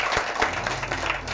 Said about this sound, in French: Le public, applaudissez pour vous-même.